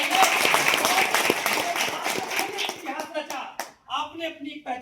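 Applause from an audience at an LIC branch meeting, dense clapping in the first half that thins out and gives way to a speaking voice toward the end.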